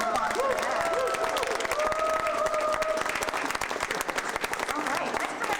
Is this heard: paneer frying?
no